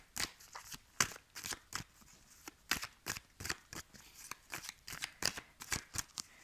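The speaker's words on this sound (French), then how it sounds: "Je vais juste mettre une carte" A card being laid down during a card reading, a string of quick soft slaps, shuffles and papery flicks in a quiet room, close and gentle, with no voices.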